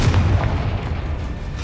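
A Confringo fire spell blasts in Hogwarts Legacy, making one loud, close, booming burst that rumbles heavily at first and then holds as a sustained roar.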